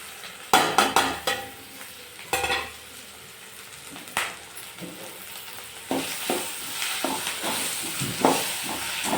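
Okra frying and being stirred in a pan for curry, with soft sizzling under repeated scraping and clinking of a spoon against the pan, close and fairly quiet.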